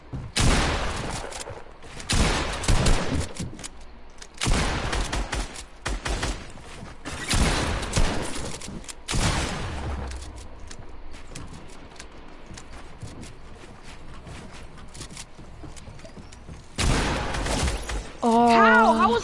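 Video game gunfire comes in several loud bursts of rapid shots separated by quieter stretches, and a voice speaks briefly at the end.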